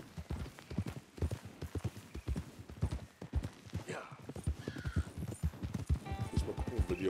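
Horse hooves clip-clop steadily in a quick rhythm, joined by a neigh partway through, in the video game Red Dead Redemption 2; the sounds are clear and close, with no talking.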